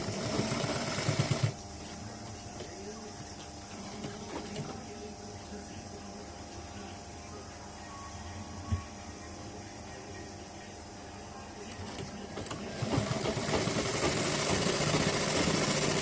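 A sewing machine stitches a blouse with a steady, close mechanical whir and rattle, starting and stopping in runs, with a louder burst near the end.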